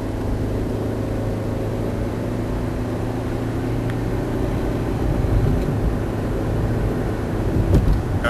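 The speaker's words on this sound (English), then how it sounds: "Listen for the transmission, the way it sounds," Toyota Prius hybrid with a continuously variable transmission accelerating steadily, a constant low engine and road drone holding one even pitch with no shift breaks, loud and close throughout.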